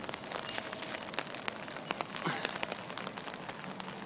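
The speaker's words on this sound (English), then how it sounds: "Now there's a good rain." Steady rain patters and splashes on a surface, a dense wash of drops with occasional sharper taps, fairly soft and close.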